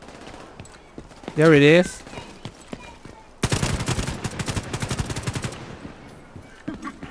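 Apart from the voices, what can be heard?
gunfire from the video game The Division 2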